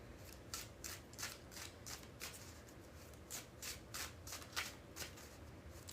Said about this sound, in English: We need 3 more shuffles.